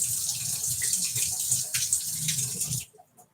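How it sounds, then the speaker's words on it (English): Tap water runs steadily in a kitchen sink while an organic lemon is washed under it, a close, continuous splashing flow that stops abruptly near the end. "Wash with hot water."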